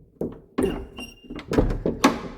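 A big heavy church door at St Mary's Church, Compton Pauncefoot, swinging and thudding shut with a couple of close, solid knocks and creaks; a voice speaks briefly between the thumps.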